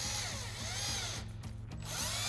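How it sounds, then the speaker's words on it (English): A power driver with a 7 mm socket runs screws back in on a 2015–2023 Mustang headlight, giving a close, continuous whirring buzz with a brief pause partway through. "we'll grab our 7 mil socket and run our 7 mil screws back in"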